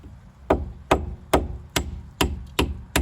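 Seven sharp metallic hammer taps on a ball joint of a 2001–2005 Honda Civic, evenly spaced about every half second, close and fairly loud with a ringing edge.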